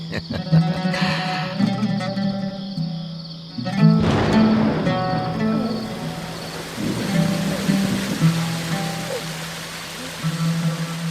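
Steady rain patters and hisses beneath sustained musical tones, the downpour becoming more noticeable partway through.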